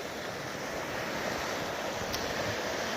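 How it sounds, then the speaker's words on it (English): A river flows past a campsite in Scotland with a steady, unbroken rushing hiss that stays even and close for the whole stretch, with no voices. "and it's right by the river"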